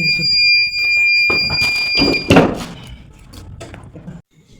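A stone machine's timer gives a sharp, high electronic beep when the countdown finishes, a steady piercing tone over soft handling noises and brief rustling.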